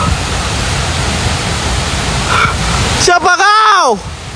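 Steady broadband roar of river water rushing below a waterfall in a jungle ravine, loud and close throughout, with a voice calling out briefly near the end.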